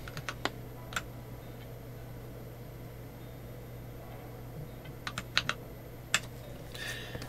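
A keyboard with Gazzew U4T tactile switches and double-shot PBT cherry-profile keycaps gives a few scattered, faint keystrokes over a steady low background hum.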